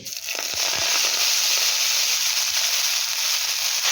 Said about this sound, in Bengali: এবারে ফোড়নের উপরে দেব কেটে রাখা শাকগুলোকে